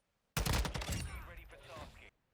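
A TAQ 56 rifle fires in a Call of Duty range test, one short, loud burst of rapid shots that starts abruptly and ends cleanly, followed by a fading echo.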